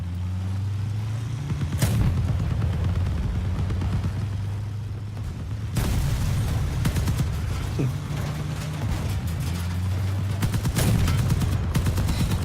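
Vehicle gunfire and explosions from the video game Crossout: dense rattling bursts of shots with sharp booms at intervals, over a continuous engine-like rumble. Loud throughout, with no speech.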